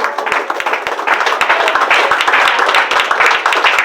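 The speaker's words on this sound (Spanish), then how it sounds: "Denle un aplauso al Señor" Audience applause at a church gathering, clapping for the Lord: close, loud, brisk clapping with sharp individual claps standing out over the crowd, steady throughout.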